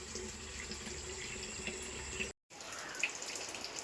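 Water runs steadily from a tap as a soft, even hiss that is interrupted by a brief moment of silence and then resumes, with a faint drip or clink.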